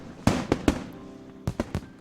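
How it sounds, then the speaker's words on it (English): Fireworks bursting in a festival scene from the visual novel Katawa Shoujo: three sharp booms in quick succession, a pause, then three more cracking bursts, each with a short rumbling tail, with no voices. "Fireworks are expensive, even for the most well-funded schools."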